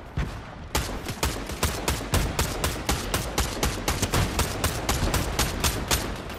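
Rapid automatic gunfire in Fortnite Chapter 5 Season 3, a steady run of sharp close shots firing almost without pause after a brief quiet opening.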